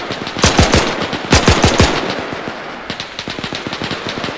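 Sustained automatic machine-gun fire in the video game Arma 3, a WWII-style infantry battle against German troops, with loud rapid bursts of shots separated by brief pauses and continuing in steady rattling strings.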